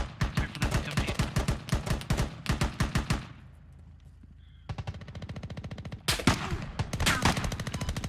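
Gunfire in Insurgency comes as loud, rapid bursts of automatic shots close by, breaking off into a brief quieter pause before more volleys resume, including some sharper, harder cracks.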